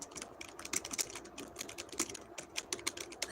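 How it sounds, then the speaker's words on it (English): Rapid, irregular keystrokes on a computer keyboard, close and crisp, with uneven bursts of clicking and no talking. "I'm typing it in."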